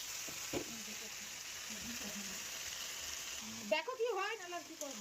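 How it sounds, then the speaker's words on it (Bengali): Chicken sizzles steadily in a hot pan with chili powder for a spicy chicken kosha, a continuous frying hiss, then stirring scrapes and bubbling grow louder near the end. "দেখো, আস্তে আস্তে আমি কষাচ্ছি"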